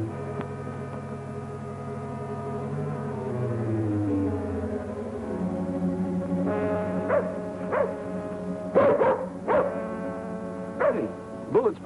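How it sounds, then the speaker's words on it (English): Prairie dog call in a 1950s TV western, rendered as a series of sharp barking yips that start midway through and come in quick bursts over a low held musical tone. "It's nothing but a prairie dog."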